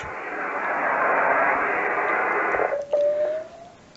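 Steady hissing radio static on an R-4B receiver connected directly to a calibrator, dropping out briefly near the end as a faint rising tone whistles through.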